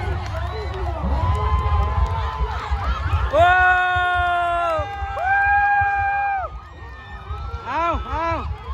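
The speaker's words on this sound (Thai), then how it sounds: "เอาเฮ็ดโอ้กองเชียร์ทางนี้นะดังคักเลยเนาะต้องกองเชียร์มาเว้ย" A crowd cheers loudly at a boat race: massed shouting and rising, sustained whoops from many voices near and around, with bursts of excited yelling over a constant roar of people.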